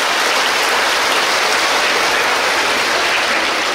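Loud, dense applause from a crowd gathered for a Buddhist nun's talk on raising children, steady and sustained throughout with no voices over it.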